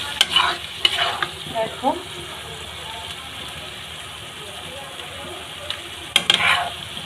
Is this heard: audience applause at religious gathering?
no